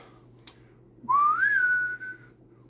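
A single clear whistled tone slides upward and then holds steady for about a second, alone against a quiet hum.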